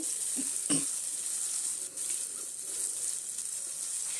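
Ground masala frying in oil for Bangude mackerel sukka, a close steady sizzle with a couple of soft stirring scrapes early on and a brief dip midway, no voices.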